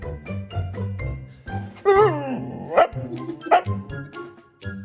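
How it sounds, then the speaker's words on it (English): A Corgi-Husky puppy gives a run of chattering, yowling barks and whines that rise and fall like speech, loud and near, with short pauses between bursts and a faint jingle of a tag. "she'll start making sounds that feel less like barking and more like she's trying to have an actual conversation with me"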